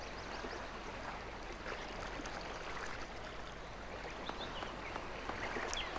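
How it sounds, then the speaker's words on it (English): A waterfall at the mountain resort in Go Vacation gives a faint, steady rushing wash of water with light splashy texture, unbroken and alone. "Got a lovely waterfall up here."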